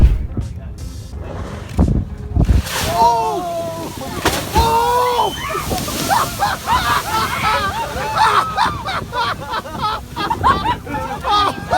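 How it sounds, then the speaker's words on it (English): A humpback whale breaches beside a boat, throwing up heavy water sloshes and crashing splashes close by, while excited voices shout and talk over the churning water. "Being in the splash zone of a humpback whale is truly both exciting and terrifying."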